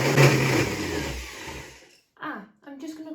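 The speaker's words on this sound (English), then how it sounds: "Let's blend this up." A blender whirs loudly while blending raspberries for a vegan cheesecake, then cuts off and leaves a few short quieter sounds.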